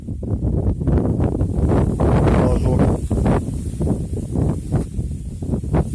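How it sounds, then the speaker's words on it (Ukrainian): Gusty wind buffets the microphone in loud, uneven rumbles beside a wheat field, with a voice speaking briefly beneath it. "Вітер, правда, кожен день сильний"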